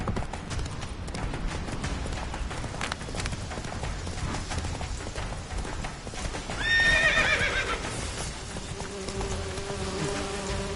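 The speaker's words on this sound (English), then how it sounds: "Run, Roach" Horse hooves clip-clop at a steady run in The Witcher 3, with a sharp neigh cutting in near the middle and buzzing insects in the background, moderately loud and close.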